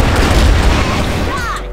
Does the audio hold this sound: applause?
no